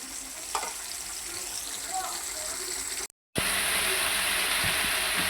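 Potatoes frying in a pan of oil: a steady, close hiss of sizzling throughout, briefly cut to silence, then returning louder and brighter as if the pan was freshly stirred.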